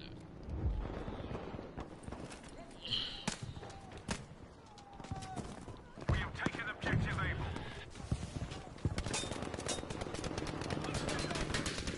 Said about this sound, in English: somebody's shooting me from this way